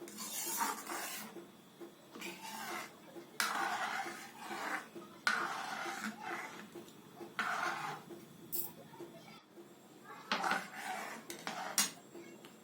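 A spoon stirring milk payesh in a metal pot, with repeated scraping and rubbing bursts at an irregular pace, close and moderately loud, separated by short quieter gaps.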